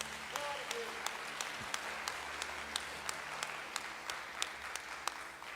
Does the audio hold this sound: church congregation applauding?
yes